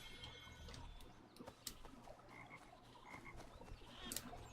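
Frogs croak repeatedly in a pond ambience in the video game Assassin's Creed 3 Remastered, a steady chorus of low rhythmic croaks with scattered higher calls, moderately close over a constant low rumble.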